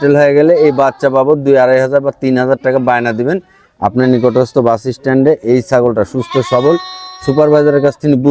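A goat bleats loudly in repeated wavering cries, close by at a commercial goat farm, mixed with people talking.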